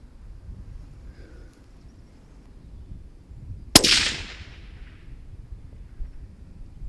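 A single loud, sharp shot from a Remington 783 Varmint rifle fired outdoors, an abrupt crack with a brief trailing echo against quiet background.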